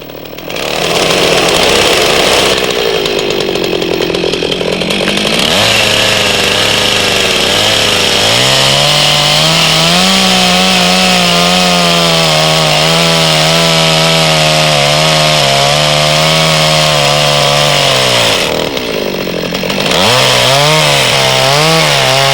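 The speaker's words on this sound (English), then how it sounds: "make a wider cut on your right-hand side so that you can monitor the saw as it cuts through the log" A chainsaw saws through a log, loud and close, revving high and bogging down under load in a long continuous cut, with brief dips where the engine eases off.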